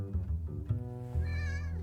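A pet cat meows up close, a drawn-out vocal call followed by a rising, wavering meow, with low background hum and no talking.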